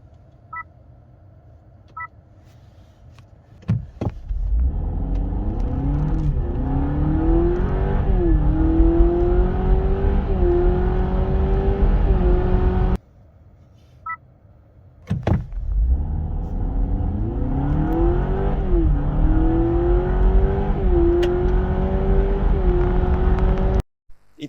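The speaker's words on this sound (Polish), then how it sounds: "Niesamowicie szybko ten samochód przyspiesza, bo jest to w okolicach 7 sekund do pierwszej oczywiście setki" A Honda Civic e:HEV hybrid with 184 horsepower accelerating hard from a standstill, heard in two runs: each begins with a sharp onset, then a loud engine and motor whine climbs steadily in pitch for several seconds.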